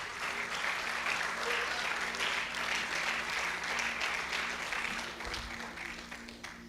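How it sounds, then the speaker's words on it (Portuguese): A large church congregation applauds steadily for several seconds, a dense wash of clapping at moderate distance that stays even throughout. "Pode se assentar, por favor, aplaudindo a Jesus"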